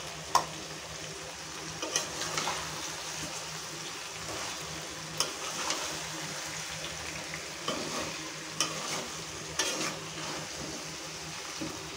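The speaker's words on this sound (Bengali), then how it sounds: "এখন গুড়টা দিয়ে একটু নেড়ে ছেড়ে আবার ঢেকে দেবো" Date-palm jaggery is stirred into raw mango pickle in a pan: a low sizzle runs throughout, with scattered spoon scrapes and clinks against the pot.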